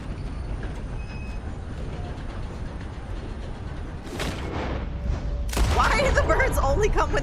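A train rumbles along in Red Dead Online, a steady low rolling drone that grows heavier toward the end as sharp clatter and bursts of noise cut through, with a person talking over it.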